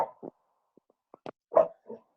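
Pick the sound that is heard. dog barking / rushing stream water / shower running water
dog barking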